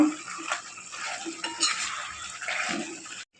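Chicken frying in a pan with its own released water, stirred now and then: a soft sizzle broken by short scraping and clinking of a utensil against the pan, close by, with no talk.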